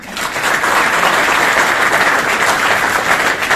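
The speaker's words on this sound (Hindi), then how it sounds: "देखो तालियां मार लीजिए।" Loud, close applause from a seminar audience in Sunariyan, Rohtak, a dense burst of many clapping hands that swells quickly and stays strong for a few seconds.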